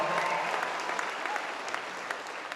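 A crowd at a strongman event applauds and cheers steadily, a dense wash of clapping that holds for a few seconds without fading.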